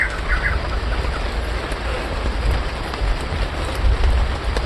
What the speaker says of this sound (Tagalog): Kaya ngayon, masyadong malakas yung ulan.